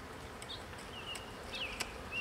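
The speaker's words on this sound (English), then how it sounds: "There's a bunch of bees in here." Honey bees buzzing inside an opened hive under the inner cover, a steady, close hum with sharper buzzes as single bees pass near, no talk.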